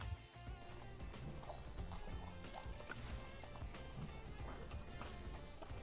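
Rapid hoofbeats of a running horse in the game Horse Haven World Adventures, drumming along under a layer of background music, fairly quiet and continuous.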